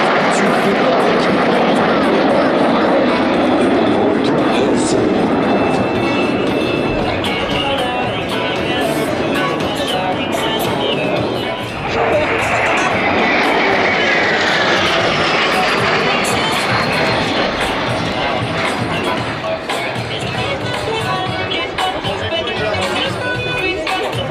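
The Patrouille de France jets performing a flying display at an air show, a loud continuous roar of jet engines sweeping overhead, with a crowd and an announcer's voice mixed in.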